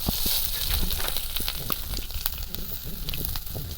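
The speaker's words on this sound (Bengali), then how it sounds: "ফোড়নের জন্য দিচ্ছি পাঁচ ফোড়ন" Panch phoron five-spice tempering sizzles in hot oil beside prawns, a loud continuous crackling hiss with sharp pops scattered throughout, close and with no voices.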